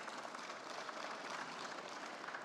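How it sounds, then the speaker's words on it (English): An audience at a rural fintech roundtable applauds to welcome the chair, a soft, even patter of clapping from a seated crowd, steady and fairly distant. "A round of applause for him."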